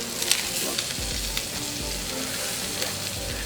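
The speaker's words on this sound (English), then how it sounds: "Look at that sear that we got on that nice Denver cut there." A Denver cut steak searing in a hot pan gives off a dense, continuous sizzle with faint low thumps and small crackles, close and even across the short stretch.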